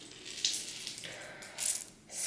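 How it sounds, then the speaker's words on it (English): Tap water runs into a sink while a beauty blender sponge is rinsed, a soft hissing splash that surges and dips as the sponge moves under the stream, close and fairly quiet. "I wash my beauty blender every time I use it"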